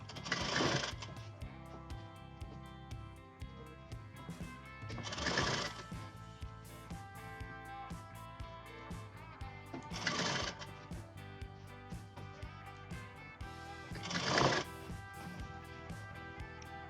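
Sewing machine stitching elastic into the waistband of women's parallel pants, running in four short loud bursts separated by quieter pauses, close up and without speech.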